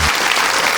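Audience applause at a women's club television show, a dense burst of many hands clapping at once, loud and close throughout the short moment.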